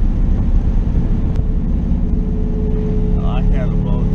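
Loud, steady engine roar from a twin-turbo LS-swapped third-generation Camaro under hard acceleration, with the tires spinning and a rough droning rumble throughout, close and continuous.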